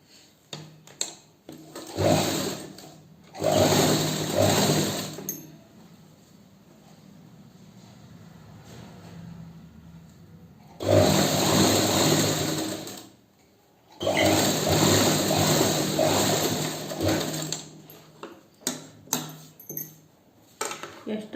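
A sewing machine stitches a garment sleeve in two long bursts of rapid, whirring mechanical chatter, separated by a quieter pause with small handling clicks; close and moderately loud, no talk.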